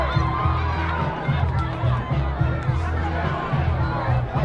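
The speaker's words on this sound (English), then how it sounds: "The old orange and black crowd getting into it here" Orange-and-black home crowd in the stands at a high school football game between Westfield and Richland Center, a lively roar of voices and chanting with rhythmic swells, close and busy, with people talking nearby.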